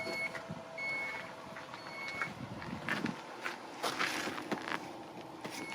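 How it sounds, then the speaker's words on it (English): The power hatchback of a 2020 Dodge Durango GT opens with the engine left running, giving short, evenly spaced warning beeps over a low idle rumble and faint mechanical movement. "we have the hatchback opening"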